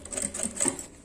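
Sewing machine stitching around a fabric piece for an essential oil holder, sewn slowly along an earlier seam; a close, steady run of rapid needle clatter lasting about a second, with no voices.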